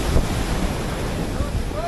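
Strong sea wind roaring steadily into the microphone, with surf and waves rushing behind it, loud, close and continuous.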